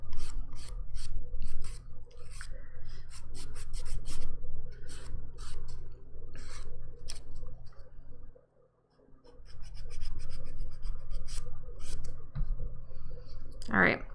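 A nail file rasps across dip powder manicure nails in short, rapid bursts of scratchy strokes, close and crisp over a low background hum, with brief pauses between passes.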